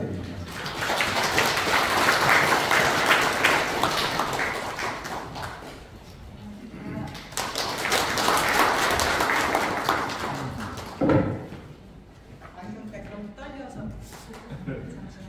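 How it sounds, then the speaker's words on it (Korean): Two long waves of clapping fill a hall during a 2022 evaluation and awards ceremony of a Pocheon community social-security council, each swelling and fading. Softer, sparser sounds follow after the second wave. "박동관 위원장님 나오실 때 박수 부탁드립니다."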